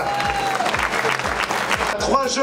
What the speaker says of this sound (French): les bravos du public pour le vainqueur du Tour du Limousin